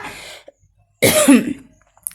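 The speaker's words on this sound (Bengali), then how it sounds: "কাশি চলে এলো কথা বলতে বলতে" A single loud, hoarse cough bursts out close by after a brief quiet moment, preceded by a trailing breathy sound.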